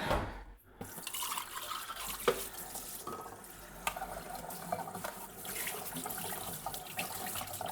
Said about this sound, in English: I've grabbed a saucepan and I'm measuring out 3 cups of water